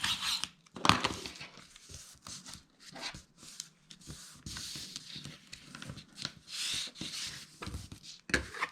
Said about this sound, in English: now I'm going to bring in my tape runner, add some tape to all of these outer flaps